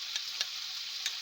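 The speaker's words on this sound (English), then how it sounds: "Now as for the sauce, you just stir it." Sauce is stirred in a pan for a stir-fry, giving soft, faint scraping and gentle sizzle with a few light clicks of the utensil, close and quiet.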